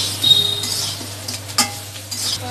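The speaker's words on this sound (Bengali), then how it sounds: "আমি একটু ভেজে নিচ্ছি।" Maggi noodles and potatoes being fried in a pan give a quiet, steady sizzle, broken by a few scrapes and clinks of a spatula stirring against the pan.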